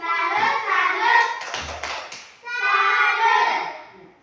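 A class of children claps together in a rhythmic salute cheer, with sharp hand claps set among chanted group voices.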